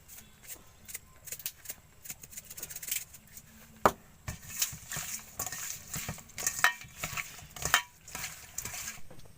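Oil crackles and sizzles in a frying pan, with scattered sharp clicks and scraping stirs at close range; the sound is fairly quiet and uneven, and faint voices come through now and then.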